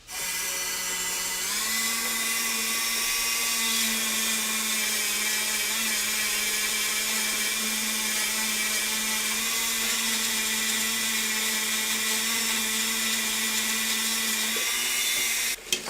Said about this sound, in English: I'll probably do a little bit more polishing with this white wheel.